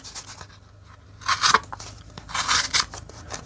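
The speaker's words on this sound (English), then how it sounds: "It just glides through the paper" Aftermarket-sharpened blade of a PROTECH Oligarch automatic knife slicing through paper, two crisp bursts of rustling and crackling cuts separated by a pause, close and fairly loud, no voices.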